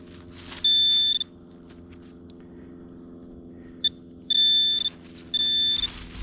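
A Nokta Makro Simplex metal detector sounds three loud, steady high-pitched tones, each about half a second long, plus a brief blip, while digging over a cellar hole. A low hum and rustling outdoor noise run underneath.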